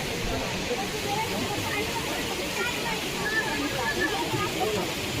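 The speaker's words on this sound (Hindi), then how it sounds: "यहाँ झरना और पानी की आवाज़ ही इतनी आ रही होगी कि मेरी आवाज़ साफ साफ शायद सुनाई ना भी दे" A waterfall roars with rushing water in a steady, loud, unbroken hiss close by, drowning out other sound.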